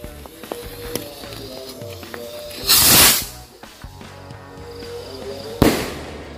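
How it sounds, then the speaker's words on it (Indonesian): Jumbo rocket fireworks hiss and roar as they launch, followed by loud, bright bursts; two big whooshing launches stand out amid smaller crackles and pops outdoors at night. "selanjutnya kita nyalain mercon roket jumbo"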